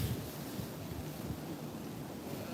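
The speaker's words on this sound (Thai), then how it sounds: "ลมแรงนี้" Strong wind gusting outdoors near a boating area on a cold day, a faint, steady rushing roar with low buffeting on the microphone and no voices.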